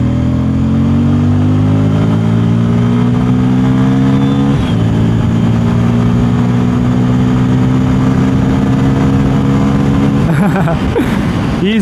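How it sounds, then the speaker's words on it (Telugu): A 2026 Bajaj Pulsar N250 motorcycle with a side-mounted exhaust drones steadily and loudly while riding. Its engine pitch holds, then shifts briefly and climbs near the end. "కొద్దిగా లౌడ్ అయితే వస్తూ ఉంది ఎగ్జాస్ట్ సౌండ్ కూడా."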